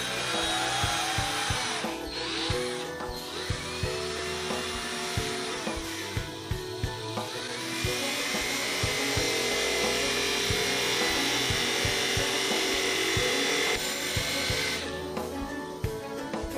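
Rough scraping and grinding as the back end of a homemade slingshot fish arrow is smoothed, steady and close with brief pauses near the end.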